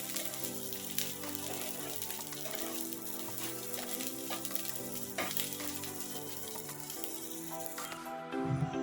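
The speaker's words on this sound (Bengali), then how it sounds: "এগুলো সব খুব সুন্দর করে ভাজা হয়ে গেছে এবার গ্যাসের ফ্লেম বন্ধ করে দেব" Capsicum and other vegetables fry in a pan over a high gas flame, a steady crackling sizzle with scattered sharp pops and occasional stirring scrapes, moderately quiet and without speech.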